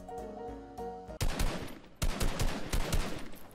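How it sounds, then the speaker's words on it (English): Bursts of automatic gunfire from enemies in Fortnite, loud rapid cracks in two long volleys after a brief tonal game sound, with no voices. "There's another enemy trying to shoot at us."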